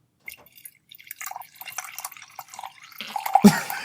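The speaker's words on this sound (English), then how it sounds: "Just pouring myself a scotch." Scotch being poured into a glass at a desk, heard as a run of small splashes and drips that swells into a fuller liquid gush near the end, close and alone.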